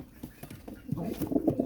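Pigeons shuffle and coo softly in a pen, with quick fluttery patters and low throaty murmurs close by over less than two seconds.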